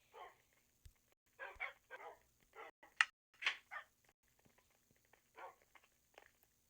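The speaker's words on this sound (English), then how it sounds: "dogs, poor dogs. I hear them at the bottom." Dogs in a Minecraft Pocket Edition custom map bark and yip repeatedly in short irregular bursts, fairly faint and distant, with brief pauses between volleys and no talking over them.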